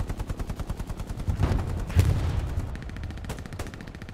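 Machine gun suppressing fire in the World War II game Hell Let Loose: steady rapid bursts of automatic fire with a heavier distant blast and scattered gunfire, loud and with no voices.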